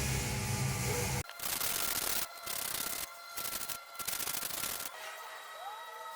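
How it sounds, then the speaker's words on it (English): Emery cloth scrubs a Mopar 8.75-inch axle housing clean, a close, fairly quiet scratchy rubbing in several bursts separated by short pauses. "I'm going to actually hit this with a little bit of emery cloth just to clean it up"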